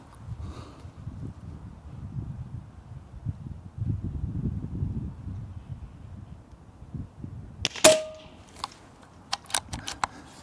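Airgun firing a slug on a shooting range, one sharp crack heard near and loud, followed by a few lighter clicks and clatters, after a stretch of quiet outdoor rustle.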